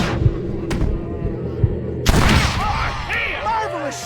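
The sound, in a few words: gunshot in video game Red Dead Redemption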